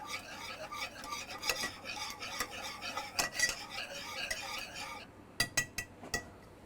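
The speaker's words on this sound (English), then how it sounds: "Stir that together. Blend in that peanut butter." A spoon scrapes and clinks steadily against a pot while peanut butter is stirred into a Southern dessert mixture, with a brief pause before a few sharp, close knocks of the spoon against the rim.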